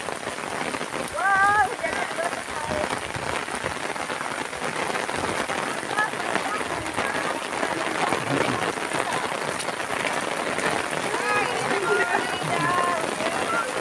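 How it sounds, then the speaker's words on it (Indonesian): Heavy rain pours down outdoors, a dense steady hiss of drops striking surfaces throughout, with people talking and exclaiming over it. "hujan"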